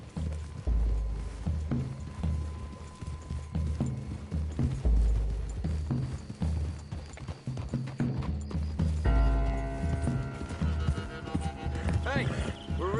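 Horses in a Western-themed video game clip-clop at a trot, with loud hoof thuds that come in several rhythmic bursts. Characters talk over the hooves, and a tonal musical score comes in toward the end.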